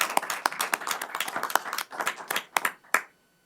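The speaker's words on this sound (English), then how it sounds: "So just like a round of applause for everyone that was involved in all these efforts in 2025." A small group applauding at a town council committee meeting, sparse distinct hand claps close by in an uneven patter that thins out and stops, with a brief pause of near-silence at the end.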